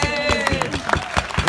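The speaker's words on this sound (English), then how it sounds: "Can we get a round of applause for Sonny" A luncheon audience applauds with scattered, uneven claps over a busy room, while people talk and cheer close by.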